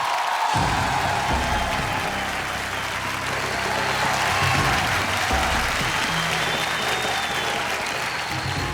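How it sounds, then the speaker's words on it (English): Loud, sustained applause from a large crowd at the IIFA 2019 awards show, continuous and dense throughout, with a hint of cheering and murmuring voices mixed in. "Ladies and gentlemen, a round of applause for the Jaffreys."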